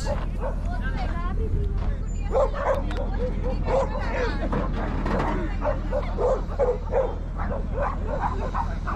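Dogs bark and yip repeatedly at a busy dog show in Guwahati, sharp overlapping barks coming near and far over a constant hubbub of crowd chatter and people talking.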